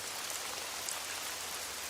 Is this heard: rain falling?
yes